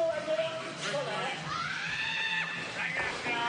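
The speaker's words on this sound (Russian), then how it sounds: "это слышно по крикам, которые уже раздаются" Crowd shouts and screams ring out in the arena at the 2016 European Weightlifting Championships, a steady roar of raised voices from the stands with a commentator talking over it.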